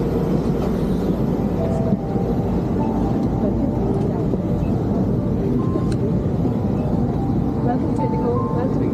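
Inside an IndiGo airplane cabin after boarding, a steady low engine and ventilation rumble fills the space, with faint clicks and background chatter.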